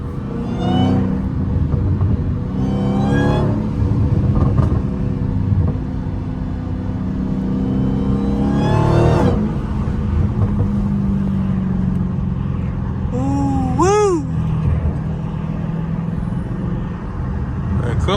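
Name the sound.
Dodge Hellcat car accelerating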